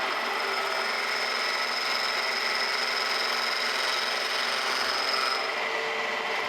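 Surface grinder grinding a metal part, a steady, loud hissing whine with a constant high-pitched tone, unbroken throughout.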